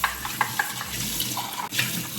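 Tap water runs into a kitchen sink over hand-wash-only dishes being rinsed, a steady close splash with small clinks and knocks as pieces are handled.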